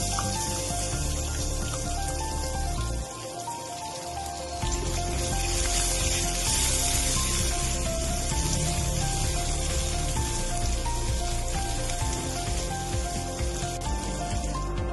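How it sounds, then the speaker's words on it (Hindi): Chopped medium onion sizzling in a pan for homemade sambar premix, a steady hissing fry that dips briefly near the start and then carries on loud and continuous, with clinks of utensils and no talk. "अब मैं इसमें कटा हुआ 1 प्याज डाल रही हूँ।"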